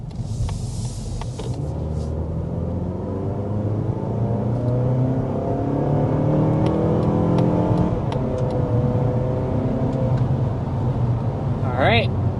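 A 2026 Mazda 3 with a 191-horsepower engine accelerates from a standstill, its engine note rising steadily through the gears, heard from inside the cabin under a low road rumble, with a voice speaking briefly.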